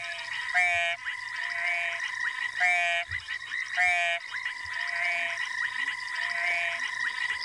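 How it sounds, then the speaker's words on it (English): Ornate frogs calling at a pan in an African reserve at sunrise, a chorus of rapid, repeated high chirping trills in loud bursts about once a second over a steady background of other frog calls. "So that's the ornate frog."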